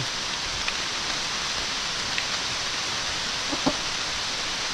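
Steady rain falls in a forest near a waterfall, a dense, even hiss of water that fills the scene without pause, with a couple of faint, brief knocks in the background and no voices.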